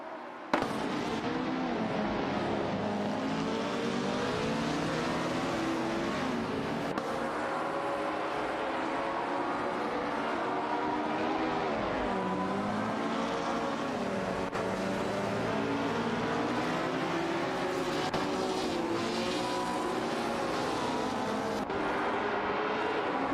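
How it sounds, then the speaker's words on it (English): Vintage race cars in a racing video game, a Lola Mk4 Climax and a Ferrari 1512, howl steadily at high revs for a long stretch, with pitch sweeping up and down through gear changes and several sharp pops. "Bot Okinabaka is piloting a Lola Mk4 Climax, while Bot Aminsen is behind the wheel of a Ferrari 1512"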